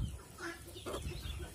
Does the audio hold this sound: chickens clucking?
yes